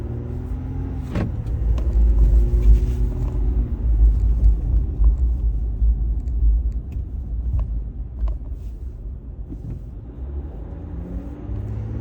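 A 2023 Ram 1500 EcoDiesel pickup pulls away and drives, heard from inside as a loud, continuous low rumble that swells early and then settles into a steady drone.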